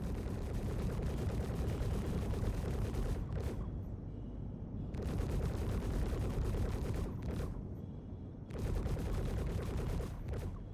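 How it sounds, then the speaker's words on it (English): Turrets fire at a ship in the video game Star Citizen: dense, loud, continuous rapid gunfire and booms in long bursts separated by a couple of brief pauses. "But I feel like the turrets are shooting at me"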